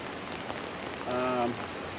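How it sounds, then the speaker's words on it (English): Rain falls steadily on a tarp at a mountain campsite, a dense, even patter throughout, with a brief voice-like tonal sound rising in the middle. "that rain sprung out of nowhere."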